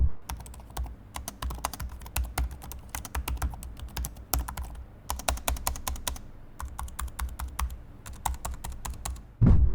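Typing on an HP Pavilion Aero 13 laptop keyboard: quick bursts of light, crisp key clicks with brief pauses between runs, close and clear.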